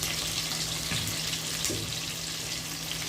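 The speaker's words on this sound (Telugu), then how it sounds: "ఆవాలు, జీలకర్ర, ఎర్రగడ్డలు వేసేస్తాను" Mustard seeds, cumin and onions frying in hot oil for sambar, a steady close, loud hiss and crackle running throughout with a couple of faint thumps.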